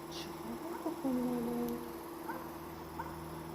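A cat gives a drawn-out, fairly faint meow, with a couple of softer short calls after it over steady background hum.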